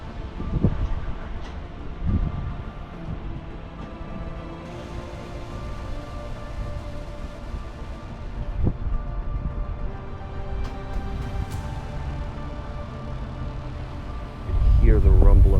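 Deep, distant rumble of a SpaceX rocket launch rolls over a boat, a low continuous roar with a few sharp thumps and crackles, ending in a heavy burst of wind-buffeted noise.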